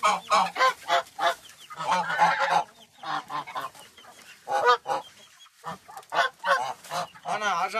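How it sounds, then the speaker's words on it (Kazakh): Geese, ducks and chickens in their enclosure give close, loud, repeated honking calls in uneven bursts, with short pauses between the cries. "қаз үйрек тауық бәрі осының ішінде"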